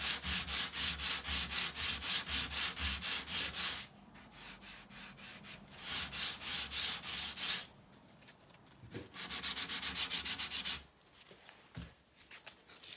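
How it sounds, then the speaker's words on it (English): Rhythmic coarse sanding with 80 grit sandpaper, quick back-and-forth strokes in bursts separated by short pauses, close and fairly loud. "we're going to start sanding it with some 80 grit sandpaper"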